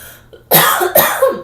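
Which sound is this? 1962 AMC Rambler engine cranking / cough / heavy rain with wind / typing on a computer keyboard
cough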